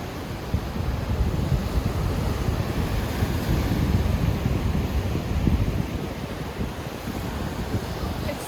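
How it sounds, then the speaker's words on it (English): Ocean surf crashing against the rocky Big Sur coastline, a steady dense roar of breaking waves with wind buffeting the microphone, loud and continuous with no voices. "we literally sat here and just watched the waves for a while, just crashing against these rocks."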